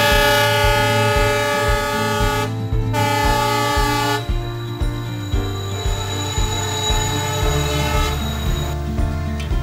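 A train horn sounds from a locomotive standing at a railway station, loud and sustained, with a steady blast that continues across the whole stretch with only short breaks.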